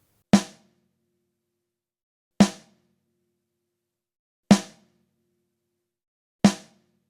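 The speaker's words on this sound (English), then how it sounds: "Let's check out the snare drum here. Just the snare drum microphone," Four single snare drum hits captured through one close Shure SM57 microphone, evenly spaced about two seconds apart, each a sharp, loud crack with a short decaying ring and silence between.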